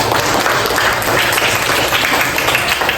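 Steady applause from a group, dense continuous clapping at even loudness throughout.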